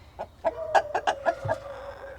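Several Brahma and Poland chickens on a woodland homestead give a run of close, soft clucks and short calls, about half a dozen in quick succession over a couple of seconds with no talking.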